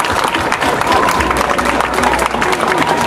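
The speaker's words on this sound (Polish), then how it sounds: "a was, wrocławianie, proszę o brawa." Crowd gathered in Wrocław for the display of the European Championship trophy breaking into dense, steady applause and cheering, loud and continuous with a murmur of voices mixed in.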